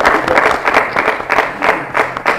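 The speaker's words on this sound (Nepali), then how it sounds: "दिपा र ओमकोलाई ताली बजाउँ त" Applause from a studio audience at a blind-date show grand finale, a steady burst of loud close clapping filling the short moment with no talk over it.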